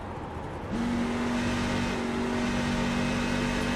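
On board a race truck at a Pocono Truck Series race, a quiet roar jumps into a loud, steady engine drone that holds with only slight variation in pitch as the driver manages the throttle to save fuel.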